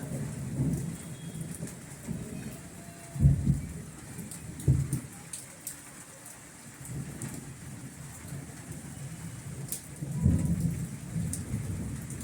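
Steady rain falls while deep thunder rolls and rumbles several times, swelling and fading in waves.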